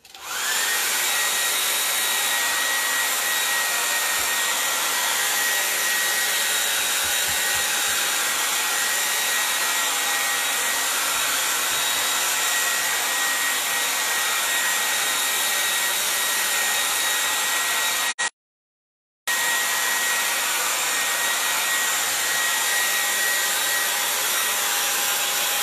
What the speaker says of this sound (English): So I'm going to dry it with my hairdryer. It's going to be loud, okay?